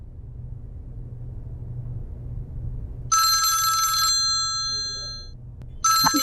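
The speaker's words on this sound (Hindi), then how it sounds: "अभी किसका फोन है?" A telephone rings in two electronic bursts, a long one then another starting near the end, over low background rumble.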